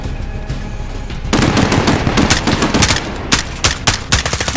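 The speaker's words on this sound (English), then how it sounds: "I don't even know where he's shooting from, but I can't see him." Rapid automatic gunfire in the Call of Duty: Modern Warfare campaign: a quieter stretch, then dense overlapping bursts of loud shots with sharp, irregular cracks close by, continuing to the end.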